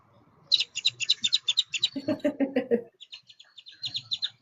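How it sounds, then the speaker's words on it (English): Birds arriving to steal food chirp in quick, close runs of bright tweets, first a rapid high series, then a lower fuller burst, then more high chirps after a short pause. "Here come the birds too."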